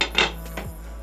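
A metal lid goes onto a cooking pot of simmering lentils with a dal and chili mix, giving a few close clinks and a light rattle, the loudest strike coming early.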